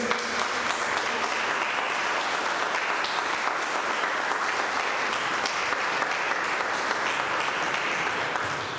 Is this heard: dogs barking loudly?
no